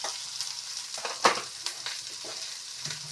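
Chowmein frying in a pan as turmeric powder goes in, giving a steady close sizzle with scraping stirs throughout and no talking.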